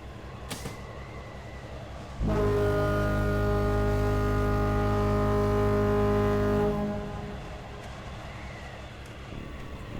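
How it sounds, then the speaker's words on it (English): A long, deep foghorn-like blast sounds once in the horror video game Stories Untold, holding steady and loud for about four seconds before fading back to a quiet ambient hum. "what sounds like a foghorn is sounded as you make your way back to your station"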